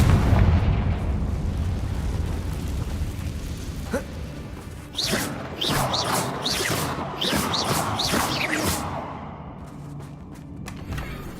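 Fiery Confringo spell explosions from the video game Hogwarts Legacy, a series of sharp bursts and booms starting around four seconds in and repeating irregularly over a rumbling ambient background, loud and close.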